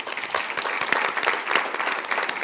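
Audience applause at a business chamber forum on transit, a dense, steady burst of many hands clapping together for a few seconds with no one speaking.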